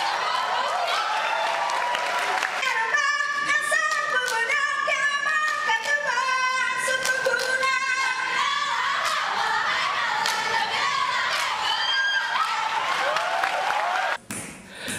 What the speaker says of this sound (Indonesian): mendapat tepuk tangan meriah dari penonton